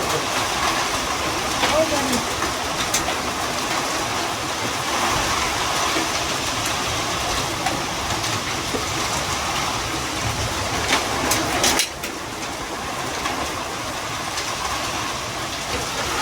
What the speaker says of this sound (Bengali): শিলা বৃষ্টি হচ্ছে, এমনি বৃষ্টি দুটো একসাথে হচ্ছে